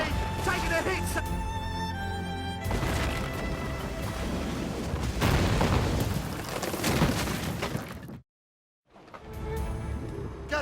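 Ship cannon fire and explosions in Assassin's Creed Rogue, heavy booms and crashes rolling over one another for several seconds, a brief silent gap, then more blasts, with shouted voices mixed in.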